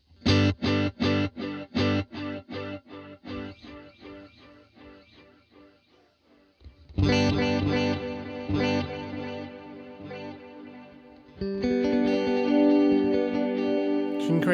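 Rhythmic tape delay on a plugin set to space-echo-style multiple taps, with punchy repeating chopped notes that decay, then denser sustained swells of echoed, distorted synth tones filling the space.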